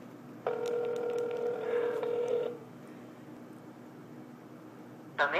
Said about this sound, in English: Still ringing.